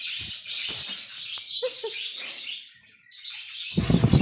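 Pet lovebirds kept at home chirp and tweet in quick bright bursts. The calls come close and clear, with a short lull before a louder, busier flurry at the end.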